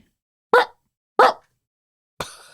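Person imitating an 8-week-old Saint Bernard puppy's bark with two short, sharp yips evenly spaced, then a third longer, breathier bark, each close and alone against silence.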